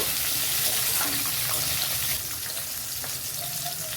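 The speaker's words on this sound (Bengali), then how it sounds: "এখন দিয়ে দিচ্ছি কিউব করে কেটে রাখা টমেটো টমেটোটাকেও ভালো করে কষিয়ে নেব" Cubed tomatoes frying with capsicum in a pan for a paneer dish, giving a steady loud hiss and sizzle throughout that eases slightly partway through, with no talking.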